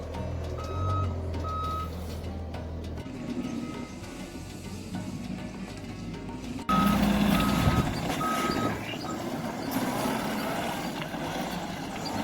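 Skid steer backing up with repeated reversing beeps over a steady diesel engine rumble while scraping grass and laying road base on a Texas homestead; the machine grows louder and closer partway through.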